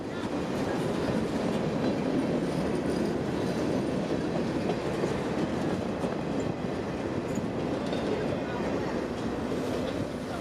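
A Seminole Gulf Railway freight train rolls past south of Bradenton, a continuous loud rumble of wheels and cars with clickety-clack rhythm and occasional faint wheel squeal, steady from start to finish.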